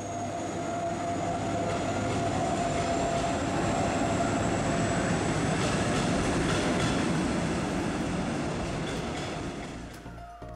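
Double-deck regional express train in Germany running along the track, a steady loud rumble with rail clatter and a faint high whine, fading slightly toward the end with no voices.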